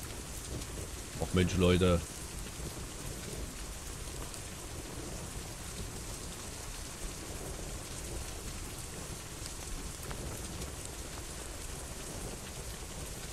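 Steady rain falls at night in the mountains in the Out of Reach survival game, a constant hiss with faint rumbles of thunder; a man briefly exclaims near the start.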